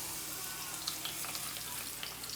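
Soaked tortillas for birria tacos fry in hot oil, a quiet, steady sizzle with small crackles and pops scattered through it.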